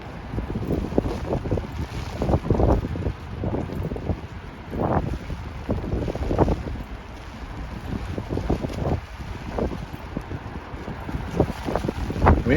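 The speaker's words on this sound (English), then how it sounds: "Wind is a-blowing." Strong wind buffets the microphone on a rainy walk through Howard Beach, Queens, New York, a continuous loud rushing roar with gusting surges throughout and no talk.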